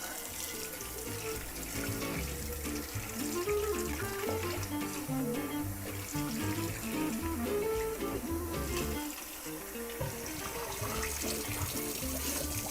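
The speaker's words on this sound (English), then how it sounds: "I'm just rinsing off the wok off screen." Tap water runs steadily into a kitchen sink while a wok is rinsed, with clattering and splashing of the pan under the flow throughout.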